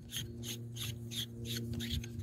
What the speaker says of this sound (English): Let me twist that off and we'll show you. And as you can see, you can unscrew the sunscreen here.